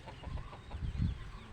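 A rooster and mother hens cluck softly in a farmyard, a few low close clucks with faint rounded calls, no voices.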